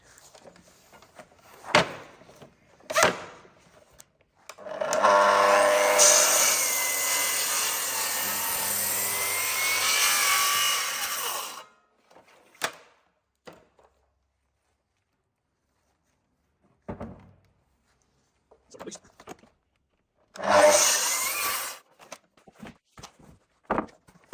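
A reciprocating saw cuts through an oak porch post to form a tenon: one loud, steady stretch of about seven seconds, then a shorter burst later, with scattered knocks and footsteps between.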